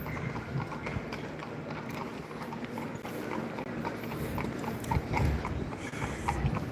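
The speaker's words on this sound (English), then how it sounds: "A horse is passing by, you guys." Horse hooves clip-clop steadily on a street in Salzburg, Austria, passing by amid the busy, continuous hubbub of an old town street.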